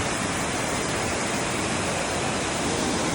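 The Aare river in Switzerland flows past a mountain in a steady, broad rushing roar, continuous and even throughout with no voices.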